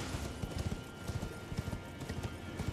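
A horse gallops in the Elden Ring Shadow of the Erdtree video game, its hooves pounding in a fast steady rhythm that stays close and continuous throughout, with no voices over it.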